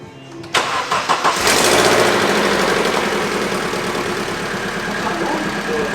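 A Vauxhall Astra engine cranks and catches, then runs with a rough, rattling idle that stays loud and steady throughout.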